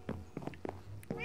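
A cat meows several times in short, close calls, with soft movement sounds between them and a longer, rising meow at the end.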